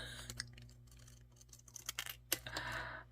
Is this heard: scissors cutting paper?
yes